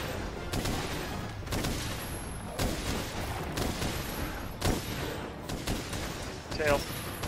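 Spread bowgun fire in Monster Hunter World during a Nergigante hunt, a dense barrage of booming shots and explosive bursts repeating every second or so, loud and continuous under game noise, with a voice speaking over it.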